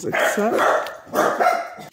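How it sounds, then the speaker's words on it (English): A dog barks twice nearby, loud sharp yaps about a second apart, with a voice briefly audible. "Sorry about my dog barking."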